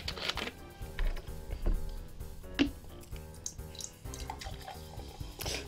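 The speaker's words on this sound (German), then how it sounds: "Ich muss nur kurz was zu trinken einschenken." A drink is poured at close range, with liquid trickling and splashing in uneven bursts. Clinks and knocks from a glass or bottle come through over faint background music.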